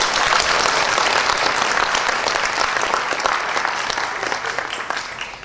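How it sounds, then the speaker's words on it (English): Audience applause at a Korean culture performance event at a college, welcoming a speaker to the stage: dense, steady clapping from a large crowd, loud and continuous, slowly tapering toward the end. "please welcome him with a big round of applause"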